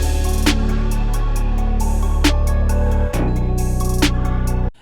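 Two layered snare drum samples play together in a song mix, giving several full-bodied snare hits over loud, continuous music that shifts partway through. Nobody speaks.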